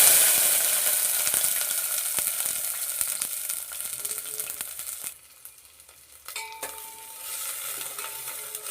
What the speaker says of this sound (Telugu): ఒక గిన్నెలో ఆయిల్ వేసుకొని ఉల్లిగడ్డ ముక్కల్ని వేసి ఫ్రై చేసుకోవాలి.